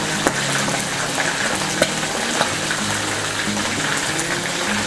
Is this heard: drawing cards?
no